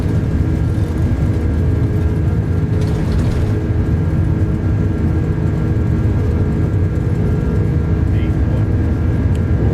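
Steady, loud jet engine roar and rumbling wheels of an iniBuilds Airbus A330-200 on its takeoff roll in Microsoft Flight Simulator 2024, constant and unbroken, with faint rattling over it.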